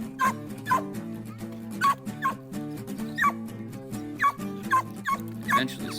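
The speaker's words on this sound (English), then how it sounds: "even a well-trained dog like Sasha takes time to get herself on some rabbit" A hunting dog on a rabbit hunt gives repeated sharp yips and whimpering barks in a steady, excited rhythm, close and fairly loud.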